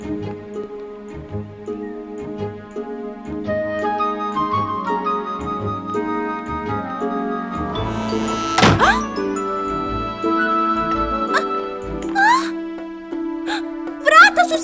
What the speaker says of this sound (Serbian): Vrata su se zaključala.